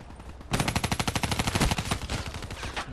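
Kuda submachine gun in Black Ops 3 fitted with fast and extended magazines and rapid fire, firing one long, fast, even burst of close, sharp shots after a brief quiet start.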